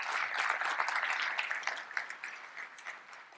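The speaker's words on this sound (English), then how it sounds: "Round of applause, please." Audience applauding at the close of a tech conference keynote, a broad wash of clapping hands that stays fairly steady and moderately loud before thinning slightly toward the end.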